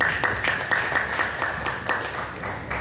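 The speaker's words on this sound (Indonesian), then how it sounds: "Tepuk tangan buat diri kita." A lecture audience claps for themselves, a short burst of loose, uneven handclaps that starts right away and fades within a few seconds, with little talk.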